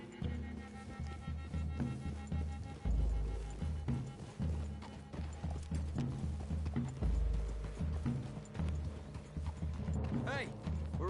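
Horses' hooves clip-clop steadily through trees toward a clearing in Red Dead Redemption 2, a continuous rhythmic plodding under a music score, with occasional thuds and a rattle of tack.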